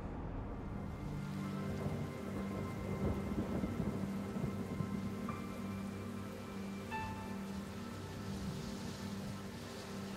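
Rain pours steadily on a miserable, windy September deployment day at Norfolk, a continuous wash of falling water with low rumbling underneath and a few faint tonal sounds further off.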